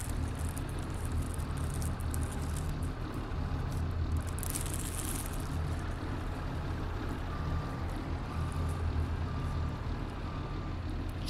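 Low, steady rumble of a Massey Ferguson tractor engine idling nearby in a farming video game, with a brief hiss and a few faint beeps later on.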